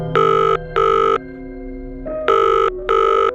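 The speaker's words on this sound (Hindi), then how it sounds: "टीना का फोन रिंग हुआ" A telephone rings in two loud double bursts, each a bright electronic trill, with a short pause between them.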